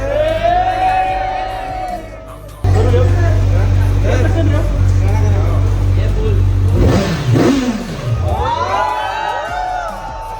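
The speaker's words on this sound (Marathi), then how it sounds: "स्टार्ट करू गाडी भावांनो जिक्सर चालू करू का" A Suzuki Gixxer motorcycle engine starts with a sudden loud roar and keeps revving steadily, the revs rising and falling near the end, while a crowd cheers and people talk nearby.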